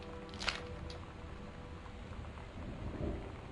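Heavy thunder rolls through a steady rain wash in the video game Gone Home, with a sharp crack early on and a swelling rumble near the end, fairly loud and without speech.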